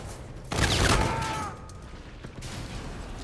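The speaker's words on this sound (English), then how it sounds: "When you shoot a lot, it recharges." Burst of gunfire in Call of Duty: Infinite Warfare, a loud dense volley lasting about a second before fading into a lingering rumble and softer game ambience.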